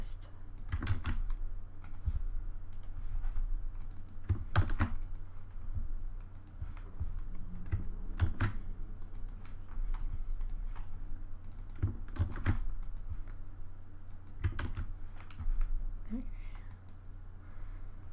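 Quiet, close-up typing on a computer keyboard, scattered clusters of sharp clicks and key taps coming in irregular bursts across a steady low background hum.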